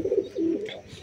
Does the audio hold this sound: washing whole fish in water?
no